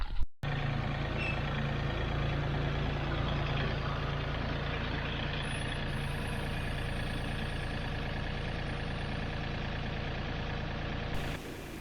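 A tractor engine idles steadily and loudly nearby, a constant low rumble with a brief clunk at the start and stop.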